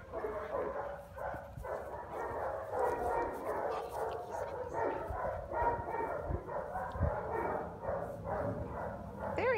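Dogs bark and yip close by in repeated overlapping bursts, with some whimpering between them.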